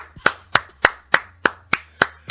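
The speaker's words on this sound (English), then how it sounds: "I'm clapping. I'm giving you guys a clap." A single person claps hands eight times in a steady, even rhythm, each clap sharp and close with a quick decay, with no talking.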